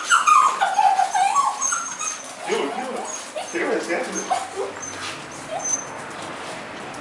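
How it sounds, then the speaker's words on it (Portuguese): A white female dog whimpers and yips in high, whiny bursts near the start, fading into softer whines while people talk over it. "Essa cachorra branca doidinha"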